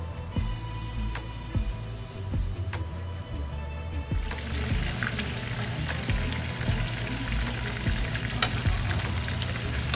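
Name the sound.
chicken and pork adobo frying in a pan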